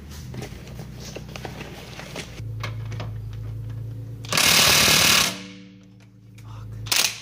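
Impact gun working on a wheel hub while fitting AMG wheels to a GTI, with a steady mechanical rattle and a loud sustained burst of hammering in the middle, then a short final blast.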